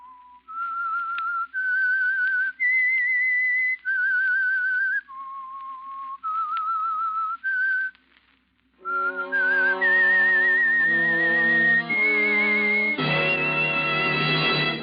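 A bright, melodic whistled tune from a 1945 radio drama opening, first a series of clear single notes, then joined by fuller accompanying tones building to a richer ending.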